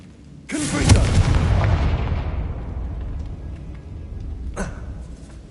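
A Confringo fire spell blasts in Hogwarts Legacy gameplay, a sudden loud boom with a long rumbling decay, followed a few seconds later by a smaller sharp burst.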